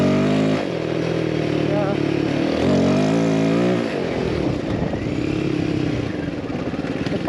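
Royal Enfield Himalayan 450 motorcycle ridden on a test run, its engine drone loud and continuous with shifting pitch as it accelerates, under a rider's brief remark and wind noise.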